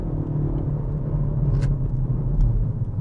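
A 200-horsepower Kia Pro Ceed GT revs and accelerates in city traffic, a steady loud low engine rumble from inside the car with no talk over it.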